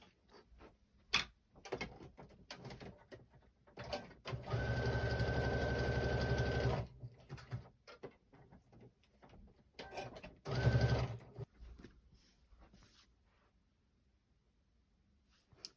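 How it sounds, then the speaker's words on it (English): A sewing machine baste stitches fabric pieces together in two bursts, one long run of about two seconds and a shorter one later, surrounded by quiet handling of the cloth. "we're going to baste stitch those pieces together along that clipped long edge"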